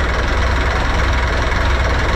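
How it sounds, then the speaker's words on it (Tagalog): An Isuzu 6HH1 diesel engine aboard a mother boat runs steadily with a loud, continuous low rumble and knocking throb, close by and with no talk over it. "ganda ng tunog ng makina natin. Ito, 6HH1"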